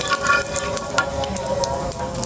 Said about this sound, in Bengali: এখন একটু নেড়ে ছেড়ে ভেজে নেব।